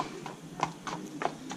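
Racehorses walk in a parade at a 2018 open afternoon, their hooves clip-clopping in a clear, close, regular rhythm of sharp knocks.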